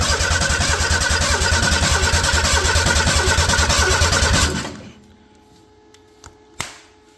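A Ford 300 inline-six engine cranks loudly and steadily on its starter, the solenoid stuck on, then cuts off abruptly, leaving near silence broken by a couple of faint clicks.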